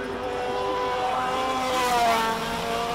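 An A1 GP Ferrari race car with a 4.5-litre engine climbs a hill at full throttle, its engine note rising and wavering as it pulls hard, loud and steady for a few seconds.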